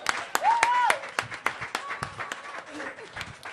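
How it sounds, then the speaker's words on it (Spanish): Congregation applause in a church service, a mix of claps with vocal exclamations and a sung or shouted note rising over it, fairly close and lively, with voices mingled throughout. "Un aplauso al Señor"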